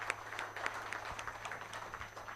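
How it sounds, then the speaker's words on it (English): Scattered applause from a conference audience for session participants, a faint, sparse patter of claps lasting a couple of seconds, heard from a distance in a hall with a low steady hum beneath. "A good round of applause for all the participants."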